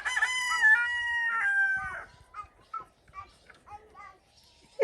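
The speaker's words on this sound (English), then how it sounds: "It's my little farm girl telling the chickens to get out" Chickens on a small farm cluck and a rooster crows close by, followed by a voice calling out in short bursts.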